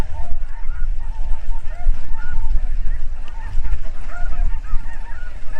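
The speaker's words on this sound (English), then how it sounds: "We got some snow geese." Dense flock of snow geese and blue geese honking together on a spring hunt, a loud, constant chorus of overlapping calls over low wind rumble.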